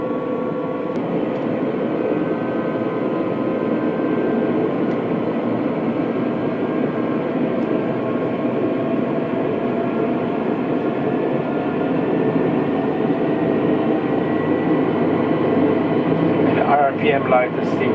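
Bell 407 helicopter turbine engine running in a VR flight simulator, a steady, loud droning whine with a broad even roar held throughout, building slightly with some rising tonal sweeps near the end.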